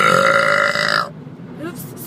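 A single loud, sustained burp from a woman that breaks off abruptly, followed by a few quieter background noises.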